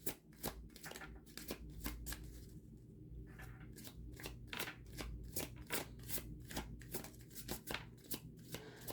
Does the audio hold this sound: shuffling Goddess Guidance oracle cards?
yes